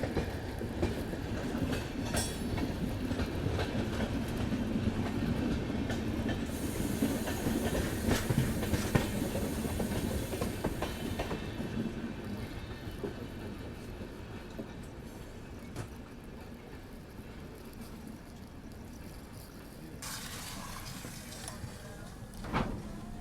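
The Puri Valsad Express, an Indian passenger train, runs on its rails with a continuous rumble and clickety-clack of wheels. It is heard from on board, moderately loud and steadier toward the end, with faint bursts of background noise.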